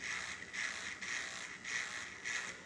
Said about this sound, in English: So I'm just using a basic trimmer.